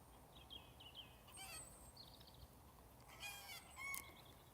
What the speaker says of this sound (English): Oh, we have the chicken.